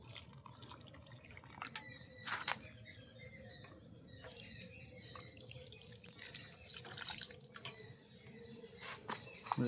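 Water drips sparsely and faintly while gloxinia potted plants are watered indoors. A few sharper drops and splashes rise above a low, quiet background.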